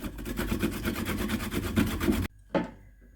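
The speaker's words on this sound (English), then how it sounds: "So I have here like 2 inches of ginger grated." Organic ginger being grated on the zester section of a hand grater: a steady run of rapid rasping strokes, close and fairly loud, then a sudden stop followed by one short scrape.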